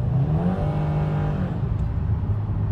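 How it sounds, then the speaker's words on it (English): A car's clutch slips under power in fourth gear, the engine droning steadily and revving without the pull matching, a continuous loud close whir with no talk. "That is the clutch slipping, my friends."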